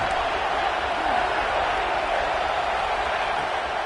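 Stadium crowd noise from the video game College Football 26 during a third-and-goal play, a dense, steady roar of many voices that holds at an even, loud level throughout, with no distinct cheers or claps standing out.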